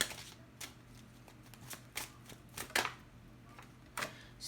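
Kipper cards are shuffled by hand in a rhythmic run of crisp riffles and snaps, close and fairly quiet, with no talking.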